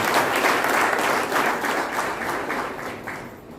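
Audience at a political rally hall in Ichalkaranji breaking into sustained applause, many hands clapping loudly and densely before gradually thinning out near the end.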